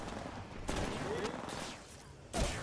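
Sharp gunshots crack out in a few separate bursts in Apex Legends, mixed with game noise and fairly loud, with a voice speaking alongside.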